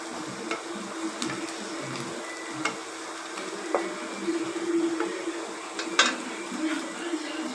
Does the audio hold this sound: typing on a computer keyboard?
no